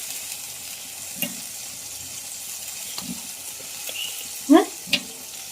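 Chillies and curry leaves fry in hot oil for a fish curry, a low, faint sizzle under a quiet room with a few sharp clinks and brief spattering pops near the end.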